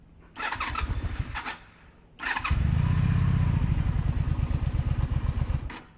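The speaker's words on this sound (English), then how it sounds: "Time for a cold start." A 2002 Honda Magna VF750C motorcycle cold-starts with the choke out: two brief cranking bursts, then the engine catches and settles into a loud, steady, slightly pulsing idle.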